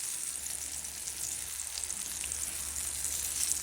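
Steady sizzling of chicken frying in hot oil, a continuous crackling hiss with no voices.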